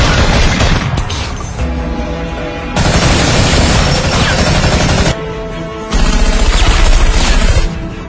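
Gunfight from the action film Triple Threat: dense, loud bursts of gunfire and booming shots pour out almost nonstop, with brief dips between volleys and no talking.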